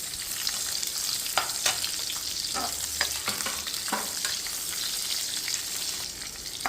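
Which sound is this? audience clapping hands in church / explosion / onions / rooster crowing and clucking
onions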